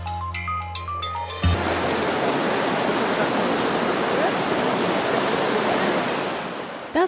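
Salgir river water rushes in a steady, loud broadband roar near the microphone, following a brief musical intro and a thump at the start, continuing without voices to the end.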